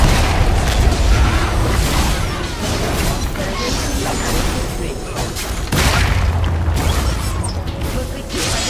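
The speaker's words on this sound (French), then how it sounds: "Votre équipe a détruit une tourelle." A turret being destroyed in League of Legends: dense, loud crashing and booming game effects with mechanical clatter, layered continuously throughout with a burst near the end.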